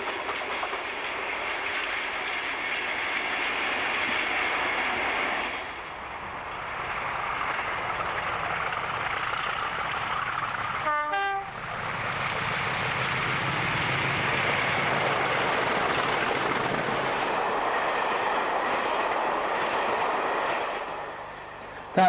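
British Rail Class 47 diesel locomotive 47636 hauls a fuel oil freight train toward Penzance in Cornwall, giving a loud, steady engine roar and wheel rumble that briefly dips partway through before resuming strongly and then fading.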